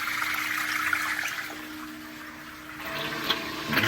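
Water drains steadily through the plumbing of a newly filled garage reef aquarium and sump, a continuous gurgling trickle alone at moderate level with a slight swell near the end.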